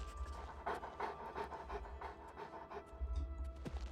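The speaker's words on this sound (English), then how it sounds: "Can I pet the dogs?" Dogs in the video game Oblivion Remastered pant steadily in quick rhythmic bursts, near and moderately loud over a low game ambience, with no talking.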